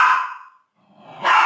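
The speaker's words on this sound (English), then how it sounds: "They're playing, the dogs are playing," Dogs playing at home, loud yips and barks in two bursts separated by a brief silence, close to the listener.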